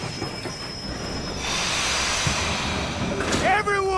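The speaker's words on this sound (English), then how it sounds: "Train's coming in." A steam-era train pulls into a station in Red Dead Redemption 2, with rumbling wheels, a hiss and rising metallic squeals of braking. People talk faintly over the rolling noise.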